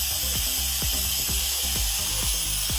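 Potato chip bags being crushed by vacuum bagging: a steady loud hiss with rapid, regular crackling pops as the plastic collapses, with no talking.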